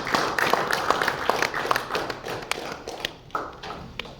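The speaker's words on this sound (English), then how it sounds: "on the stage with a big round of applause" At a Celebrity Cricket League press meet, the gathering claps to welcome actor Karthik Jayaram on stage, a brief, fairly dense burst of applause that thins into scattered claps and thuds.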